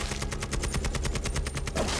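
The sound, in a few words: gunfire sound effect in narrated story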